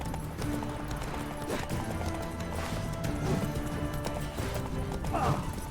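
A horse gallops in The Witcher 3 jousting play, its hooves clip-clopping in quick steady rhythm over game music, with a brief whinny near the end.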